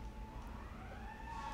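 A wailing siren rises and falls in pitch, faint and distant, over a steady low hum of background noise.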